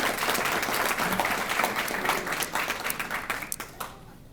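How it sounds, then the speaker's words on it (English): An audience applauds two elementary school students being honored, a moderate round of many hands clapping that gradually thins and fades out by the end. "let's give a round of applause to these 2 students in Reese Elementary"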